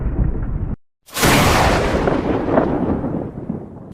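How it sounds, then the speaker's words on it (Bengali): Thunder sound effect in a storm scene: a low rumble cuts off, then a sharp crack bursts in and rolls into a long, loud, decaying rumble. "চারদিকে বজ্রপাতের শব্দ।"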